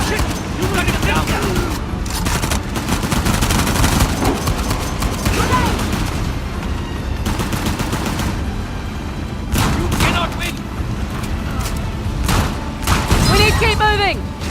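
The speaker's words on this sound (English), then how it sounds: "this shotgun pack a punch" Heavy shotgun blasts and rapid gunfire in the action game Uncharted: The Lost Legacy, loud and dense throughout with booming impacts, mixed under tense shouted talk from players.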